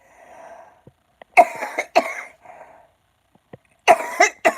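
Several harsh, close coughs come in two bursts, separated by quiet breaths and a brief pause.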